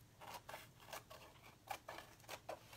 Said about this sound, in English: I'm just cutting along the edge